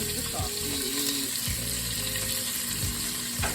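Bacon and sausage sizzle in a pan with a loud, dense, steady frying hiss and a few low thuds and scrapes, while a faint voice speaks in the background.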